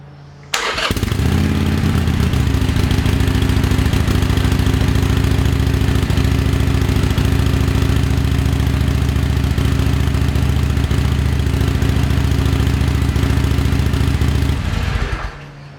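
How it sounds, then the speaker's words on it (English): A 2020 Harley-Davidson Iron 883 with its stock exhaust starts up and then idles in a loud, steady, throbbing rumble that runs close and unbroken for about fourteen seconds before cutting off. "let's get this thing started so you can hear what the stock exhaust sounds like"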